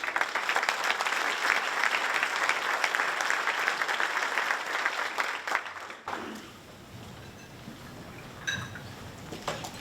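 Applause fills a breakfast hall at a Salem Fire Department firefighter event as an audience welcomes the mayor, dense and steady for about six seconds before dropping away to a quieter room.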